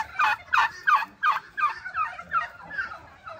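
Several loud, rapid gobbling calls from silver pheasants in quick succession, close by, fading into softer chattering calls.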